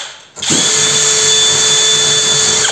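Drill spinning a mini wire brush to clean slag from metal: after a brief quiet start, a loud, steady high-pitched whine kicks in and holds, close up, with no talking.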